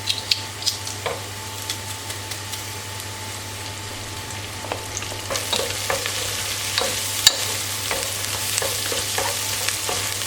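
Onions and three cloves of garlic sauté in a pan for a turkey bulgur pilaf. A continuous sizzle is broken by the clicks and scrapes of stirring, which grow busier toward the end, and no voices are heard.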